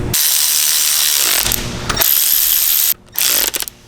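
A ratchet wrench tightens bolts during car engine work with fast, loud clicking, broken by brief pauses and ending in a few short choppy strokes.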